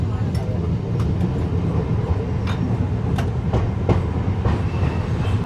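A passenger train on the Sealdah line near Palashi runs steadily on the rails. A heavy low rumble fills the whole stretch, with sharp clickety-clack wheel knocks recurring irregularly over it.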